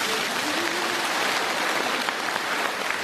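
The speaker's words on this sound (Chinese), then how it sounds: "鼓掌。" A studio audience claps steadily, a dense even patter of many hands filling the room for a few seconds without talk.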